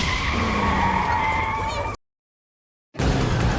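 A car speeds away in a tense chase scene from the 2020 film Unhinged, loud engine roar with tire skid, cut off by a second of silence before the rush of the car returns.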